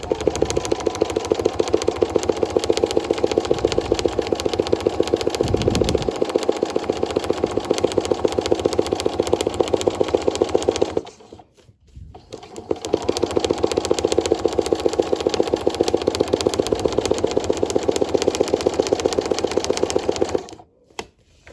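Sewing machine running steadily at high speed during free-motion quilting of a quilted fabric Christmas ball, a dense continuous mechanical buzz with a brief pause near the middle before it resumes, no talking.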